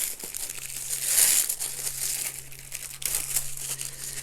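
Tissue paper crinkles and rustles close up as a crochet subscription box is unwrapped, a steady crackling texture with a louder burst of handling partway through and a faint low hum underneath.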